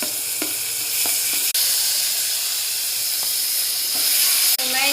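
Onion and garlic sautéing in hot oil in a pan, a steady loud sizzle and hiss throughout with a few light stirring clicks.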